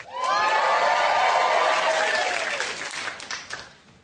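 A television chat show studio audience applauds and cheers a guest's entrance, a loud, dense burst of clapping that holds steady, then thins and fades toward the end.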